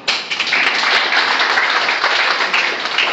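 Applause from an audience packed into a mall event hall, a dense steady wash of many hands clapping close and loud for the full stretch, no voices on top.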